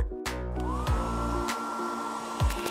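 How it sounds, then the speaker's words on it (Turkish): A hair dryer blows steadily to melt frozen water, a continuous airy whir with a rising tone near the start and a few brief clunks and thumps over it. "Buz nasıl eritilir? Bir saç kurutma makinesi."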